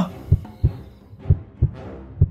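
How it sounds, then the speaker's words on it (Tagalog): A pounding heartbeat effect in a Filipino aswang horror audio drama, with five heavy, evenly spaced low thumps that are loud and close, heard alone. "Lumakas ang kabog ng puso ko"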